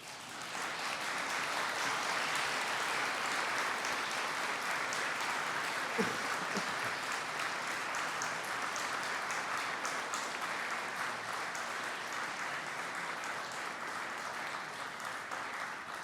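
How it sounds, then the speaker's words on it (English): A large audience at a university graduation ceremony applauds the graduands, a dense, even roar of many hands clapping that sustains steadily for over fifteen seconds without pause. "give them a big round of applause"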